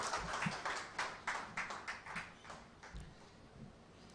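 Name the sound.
applause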